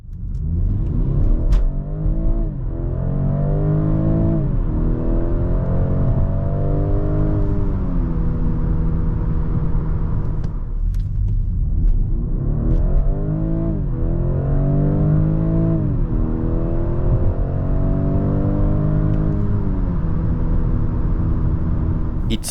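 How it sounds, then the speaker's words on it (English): A BMW X3 plug-in hybrid with a 184-horsepower petrol engine accelerating hard in an acceleration test, engine note climbing through gears in repeated rising sweeps with brief shift dips, steady and close, no talking. "I did an acceleration test with a battery that has enough charge, and then another acceleration test when the battery was completely empty"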